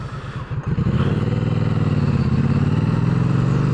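Triumph Street Cup motorcycle engine pulling hard while riding, a loud close steady drone that rises after a brief gear change, with wind rush behind it.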